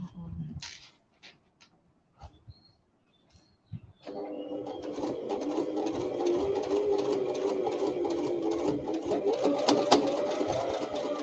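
Electric sewing machine stitching a fabric pocket piece, running steadily at close range for the second half after a few short isolated whirs and clicks, with quiet handling noises in the gaps.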